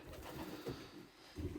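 Pigeons coo softly in a loft, with a low, quiet burbling that rises and falls in a couple of gentle phrases.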